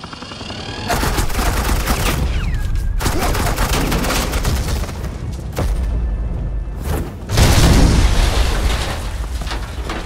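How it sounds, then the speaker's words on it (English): Suppressing gunfire in Batman: The Enemy Within, loud sustained bursts of automatic weapons with a few abrupt cutoffs and a heavier blast near the end, dense and close. "suppressing fire."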